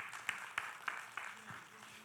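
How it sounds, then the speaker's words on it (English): A sparse handful of audience claps at a stage event, five or so sharp, separate slaps spaced out over a couple of seconds, faint and somewhat distant. "Round of applause for him,"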